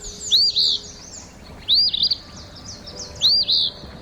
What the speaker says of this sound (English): It's that of our featured feathered friend, the eastern phoebe